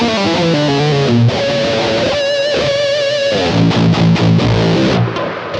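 Electric guitar run through an amp modeler with a boost pedal engaged, playing a loud, saturated passage of chords and sustained bent lead notes, steady and dense throughout with no talk.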